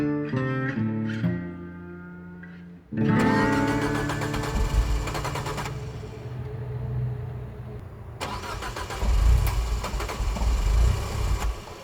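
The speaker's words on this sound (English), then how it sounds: "My car is still not starting right" A car engine, in a camper van being insulated in autumn, cranks and sputters as it struggles to start, with a starter whirr, brief catches and rough engine bursts over several seconds, near and loud with no talk.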